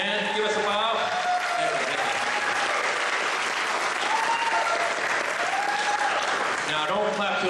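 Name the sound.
audience applause at an award ceremony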